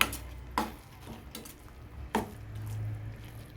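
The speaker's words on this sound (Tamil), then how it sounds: "நல்லா மிக்ஸ் பண்ணுங்கள் காளான் நல்லா வேகணும்" Chopped mushrooms stirred in a cooking pan for a mushroom kothu curry, giving a few soft scraping knocks of a spoon against the pan over a low background sizzle, close and fairly quiet with no talk.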